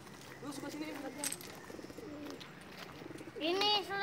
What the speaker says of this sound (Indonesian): Ini saudara-saudara burung paling cakep.